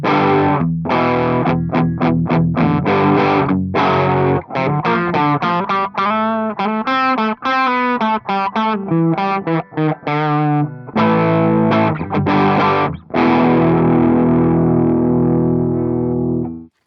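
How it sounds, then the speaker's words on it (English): Electric guitar through the Coldfire distortion plugin with its tube drive turned all the way up, playing a loud, saturated riff of choppy chords and single notes with short gaps, ending on a held, ringing chord. "So here is the tube drive all the way up."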